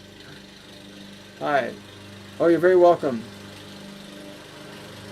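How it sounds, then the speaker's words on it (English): A lawnmower engine drones low and steady in the background as it draws nearer, a constant hum beneath short bursts of conversation. "I hear a lawnmower coming closer."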